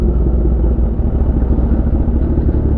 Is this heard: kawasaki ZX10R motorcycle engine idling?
yes